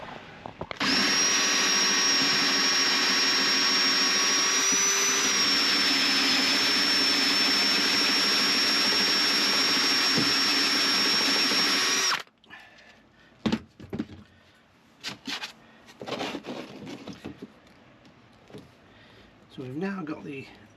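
A cone drill bit bores through a panel to enlarge a hole for a sink drain pipe, a loud, steady high whine lasting about eleven seconds before it stops abruptly. Scattered knocks and handling noises follow, with talking.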